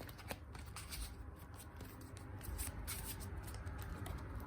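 Quiet, close riffling of a Yu-Gi-Oh! deck being shuffled, a run of soft rapid flutters and taps.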